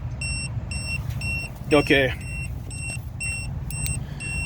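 A Tymate TM7 universal tire pressure monitor beeps in a vehicle, a regular series of short high electronic tones about every half second over low engine hum, with a brief spoken word midway.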